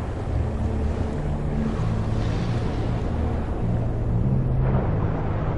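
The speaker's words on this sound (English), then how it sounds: "those are the waterfalls falling down" Waterfalls pour down in the underwater exploration game ABZU, a steady broadband rush of falling water with a low rumbling undertone, continuous and fairly loud throughout with no voices.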